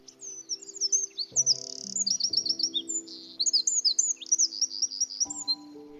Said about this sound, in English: When that wren bursts into song